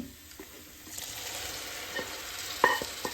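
Vegetables going into a pan of frying masala with garlic and ginger for a vegetable dum biryani, giving a steady sizzle with scattered stirring scrapes and a sharper clatter near the end, no talking.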